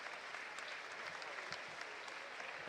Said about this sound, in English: Nice applause from the York